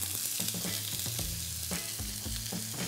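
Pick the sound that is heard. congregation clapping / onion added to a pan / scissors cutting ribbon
onion added to a pan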